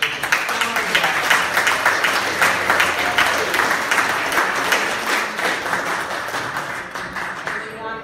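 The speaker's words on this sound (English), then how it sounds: "I'd like to just give them a round of applause" An audience at a Democratic club meeting in Barnegat, New Jersey applauds two local candidates, loud, close clapping from a roomful of people that runs steadily and thins toward the end.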